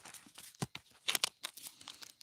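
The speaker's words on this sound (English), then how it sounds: "I'm gonna shuffle the deck quickly before I pull a card." A deck of cards is shuffled quickly up close, giving a brief run of crisp riffling and snapping with crinkly bursts, heard alone without talk.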